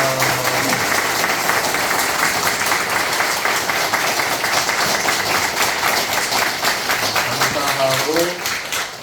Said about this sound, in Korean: 함께 하나님께 영광의 박수 올려드리겠습니다